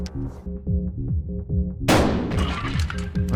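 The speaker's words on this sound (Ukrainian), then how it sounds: "З дробовика." A shotgun blast in the Buckshot Roulette video game, one sharp loud crack with a noisy tail that cuts across a low, rhythmic game music loop playing throughout.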